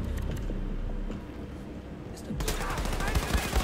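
Bursts of gunfire from the video game Wolfenstein II: The New Colossus, with dense rapid shots building to a louder volley near the end over a constant game background.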